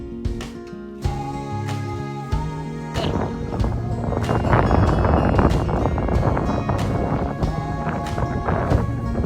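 Wind on the Charles River in Boston during kayaking, a steady loud rush buffeting the microphone that builds in the second half, with music-like tones and occasional knocks underneath.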